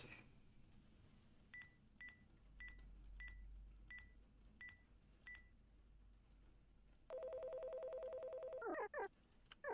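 Phone keypad dialing in the video game NEET: a series of evenly spaced DTMF tone beeps over a quiet low game hum, followed by a longer steady burst of tones and a few short chirps near the end.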